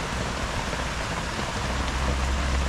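Heavy rain pours steadily over a vegetable garden with young bitter gourd plants, a dense, even hiss that holds constant and fairly loud throughout with no voices.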